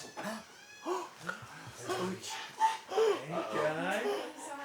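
A wet dog whimpers and pants nearby, with short excited vocal sounds, while people talk at the same time.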